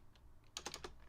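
Quiet, close computer keyboard typing: a few soft isolated taps followed by a quick burst of several keystrokes, with faint low background hum.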